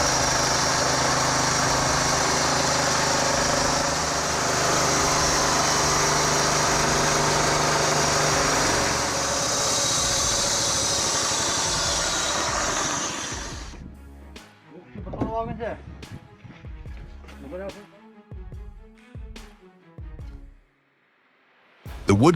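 A firewood processor powered by a Maxim 6.5 horsepower engine runs with a loud, steady engine drone for most of the time, then cuts out, leaving intermittent clunks and knocks from the machine.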